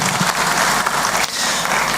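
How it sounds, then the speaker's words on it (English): Audience applause at a stakeholder forum on innovation, a continuous, moderately loud wash of many hands clapping in a hall, without any talk over it. "Please, one more time, a round of applause."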